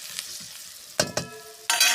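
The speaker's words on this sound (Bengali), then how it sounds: "তেল হলুদ পেঁয়াজটা ভাজা চলছে।" Onion and turmeric frying in oil in a pan while duck curry is prepared. Quiet sizzling is broken by a few sharp stirring scrapes and crackles, then a louder burst of frying near the end.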